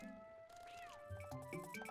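A cat in the Zelda Twilight Princess game lets out a single soft, rising-and-falling meow over quiet, tinkling background tones, fairly faint and with no one talking.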